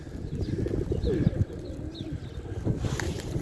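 Pigeons coo softly in a loft among the birds, a low murmuring that runs steadily throughout against faint wind and background rustle.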